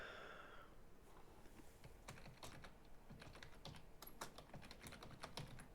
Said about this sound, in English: You hear now the keyboard.